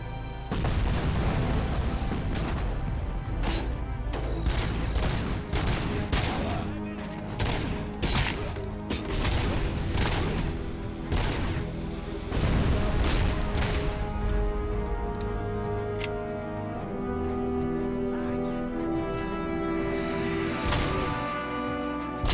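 Rapid, dense gunfire bursts crackle and boom almost continuously from a RoboCop Rogue City gunfight, loud and close, layered over a steady tonal game score with no voices.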